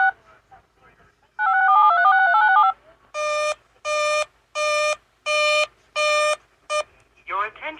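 Emergency alert broadcast on a weather radio station during a severe thunderstorm warning: a warbling multi-tone burst followed by a series of loud, evenly spaced electronic tone beeps, each about half a second long, ending in a short chirp.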